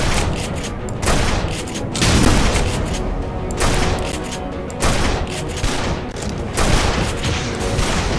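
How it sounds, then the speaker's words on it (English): Shotgun blasts ring out in the shooter game Tribes: Ascend, several loud, booming shots at irregular intervals over a dense, constant background of game action. "Shotgun."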